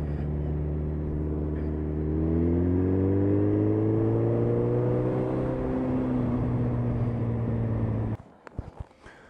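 A Suzuki Hayabusa motorcycle at high speed, engine drone steadily rising in pitch under loud wind roar, then cutting off abruptly near the end into quieter, scattered clunks.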